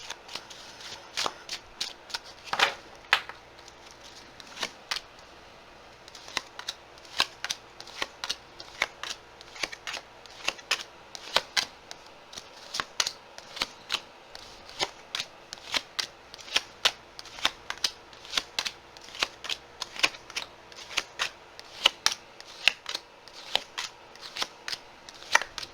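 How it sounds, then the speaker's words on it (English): Tarot cards shuffled by hand in repeated quick riffles and flicks, crisp close snaps in an irregular rhythm over a quiet background, with no talking. "We're going to start putting down cards whenever the shuffle feels right"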